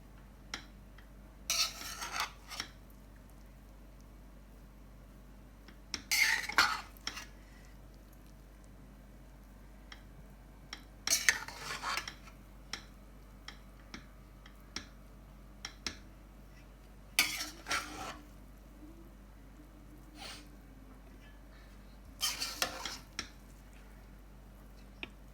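A spoon stirs food colours through sweet zarda rice in a pot, five quiet scraping, squishing bursts spaced a few seconds apart with no talking.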